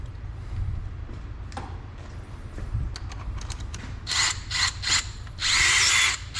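A power drill bores into a bolt hole in an aluminum Honda cylinder head, starting with faint scraping and clicks, then several loud, gritty whirring bursts that end in a longer sustained run.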